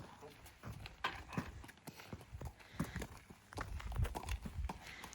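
Horse hooves clop on a hard floor or ramp while the horse is loaded at a show-jumping training course, irregular thuds and knocks in scattered clusters, with people talking nearby.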